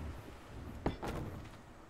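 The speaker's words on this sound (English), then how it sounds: "I think I'm going to do a double door" A double door being placed while building a base in the game Ark Survival Evolved gives one sharp thud followed by a short sliding, rumbling clatter, alone against quiet game ambience.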